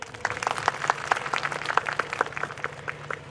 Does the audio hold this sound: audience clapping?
yes